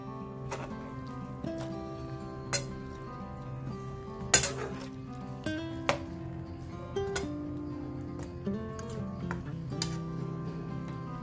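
A spoon scrapes and clinks against a pan while red chilli chicken fry is stirred, giving repeated metallic knocks and scrapes over a soft background sizzle, with no talking.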